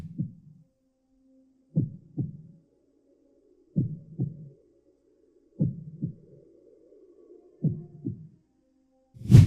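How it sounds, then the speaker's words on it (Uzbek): Heartbeat from the heart operation scene in King Kong: five paired lub-dub thumps, deep and steady and roughly two seconds apart, with a faint low hum lingering between beats. "Eng og'ir joylardan biri o'sha operatsiyadagi ovoz, yurakni ovozini juda zo'r ifodalab berishgan"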